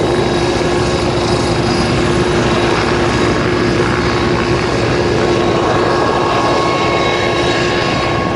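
A Westland Wasp HAS-1 helicopter lifting off at an air display, its turbine and rotor giving a loud, steady, close drone that holds unbroken throughout.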